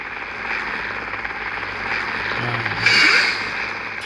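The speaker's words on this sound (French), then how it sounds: "Ok, t'as atterri, toi, hélicoptère." A steady helicopter rotor drone in Minecraft fills the scene, swelling slightly louder near the end, with no voices.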